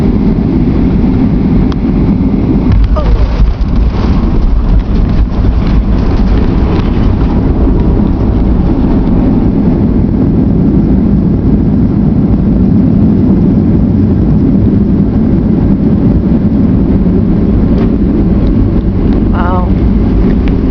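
An airliner lands in Milwaukee in February, with loud, steady engine and wind roar throughout the cabin, a brief jolt near the start as the wheels touch down, and faint voices underneath.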